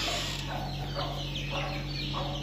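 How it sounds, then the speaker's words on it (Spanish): Andalusian hens clucking close by in a steady run of soft, overlapping calls over a constant low hum, with no talking. "Me ha regalado 9 gallinas andaluzas"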